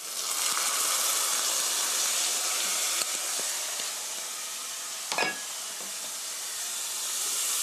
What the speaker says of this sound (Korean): 여기에 비린내 잡아줄 라이스 와인 청주 한 큰술 넣어주시고요